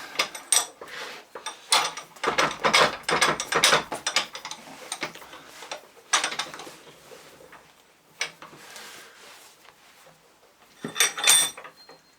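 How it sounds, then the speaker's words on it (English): A Land Rover alternator part from a boat is clamped in a bench vise, with close metallic ratcheting, clanks and handling knocks in uneven bursts and no speech. "If I put this back in the vise, let's see if it"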